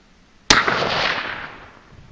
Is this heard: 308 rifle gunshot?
yes